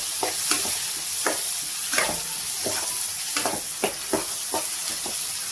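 A spoon repeatedly stirs a sizzling cucumber and tomato curry in a pan, rhythmic scraping strokes over a steady close fry hiss, with no speech.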